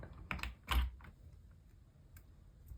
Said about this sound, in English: And these switches right here are linear cream switches.